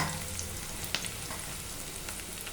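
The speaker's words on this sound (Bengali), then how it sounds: "এবার এর মধ্যে আমি কটা কাঁচা লঙ্কা দিলাম" Whole green chillies fry in hot oil for Bengali-style ghugni, giving a constant dense sizzle with a few faint pops and stirring touches and no voices.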